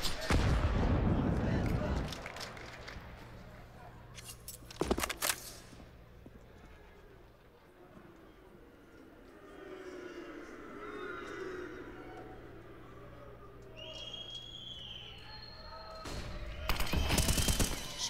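Bursts of gunfire in Counter-Strike on the Mirage map during a G2 vs FaZe IEM Katowice 2022 grand final match, loud volleys at the start and end with scattered shots between over crowd and caster talk.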